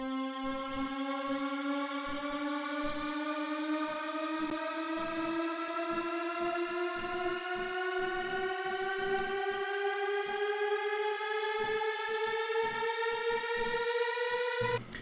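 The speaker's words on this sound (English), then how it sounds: "That's how to create a very basic but yet effective riser in Serum." A basic riser synthesized in Serum with LFO modulation on the wavetable position: a steady harmonic tone glides slowly upward in pitch over about fifteen seconds, with a choppy rhythmic pulsing underneath, loud and alone with no voices.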